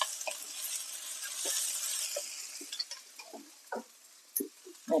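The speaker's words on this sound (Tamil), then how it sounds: "குடமிளகாய் இதை நல்லா இந்த எண்ணெயிலேயே வதங்கணும்" Capsicum sautés in oil over high flame, giving a soft hiss that fades under a run of light utensil taps and clinks against the pan.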